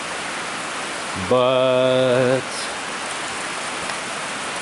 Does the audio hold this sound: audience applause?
no